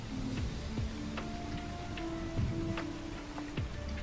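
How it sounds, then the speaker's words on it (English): Storm rain patters steadily outside with scattered sharp drips and ticks, a continuous moderate wash with no speech. "It's storming so bad outside right now."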